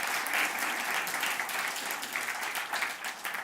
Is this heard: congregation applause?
yes